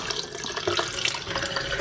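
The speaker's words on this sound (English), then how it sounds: "Let's rinse this off first and see what we get." Football boots rinsed under a running tap, a steady splashing stream of water hitting the boots and sink, moderately loud and close, with no talking.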